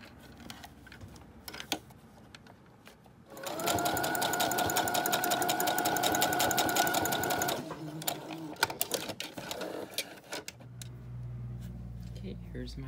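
Sewing machine stitching across fabric in one steady whirring run of about four seconds, close up, framed by small handling clicks and knocks before and after.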